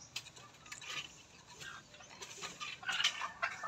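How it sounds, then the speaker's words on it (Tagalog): Chickens cluck and squawk noisily nearby in irregular bursts, with no talking. "ang ingay ng manok"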